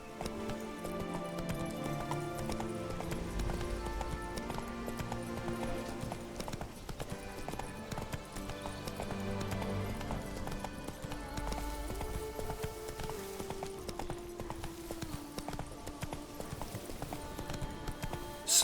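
Roach, Geralt's horse in The Witcher 3: Blood and Wine, trots along in a steady clip-clop of hooves, moderately close, over a bed of orchestral game music.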